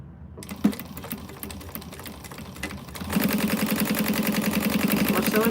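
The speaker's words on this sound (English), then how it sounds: "Sewing this on at 1/4 of an inch." A sewing machine stitches a bag seam a quarter inch from the edge, starting after a few quiet clicks and handling sounds, then running in a steady, close, rapid mechanical chatter to the end.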